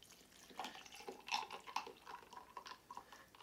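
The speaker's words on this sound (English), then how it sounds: "and add my water." Water is poured over a few ice cubes in a small shaker for an herbal drink, a quiet, close splashing trickle with faint clinks running for a few seconds.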